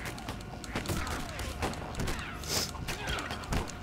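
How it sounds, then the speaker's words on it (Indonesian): A muffled blast bursts in Lego Batman: Villain Mode during a museum diamond heist, with several thumping booms and crackling debris scattering over a few seconds of game noise. "Meledak dah."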